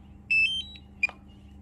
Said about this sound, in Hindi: The similar case is with the remote, you will hear a beep sound.